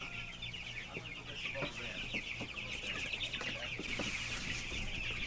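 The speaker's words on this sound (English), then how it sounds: "The little chicks in there, they need some feed" Young meat chicks clucking and cheeping steadily in a farm pen, a dense continuous chorus of close bird calls with soft scattered taps and rustling beneath.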